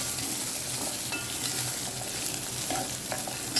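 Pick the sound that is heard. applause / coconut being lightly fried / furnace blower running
coconut being lightly fried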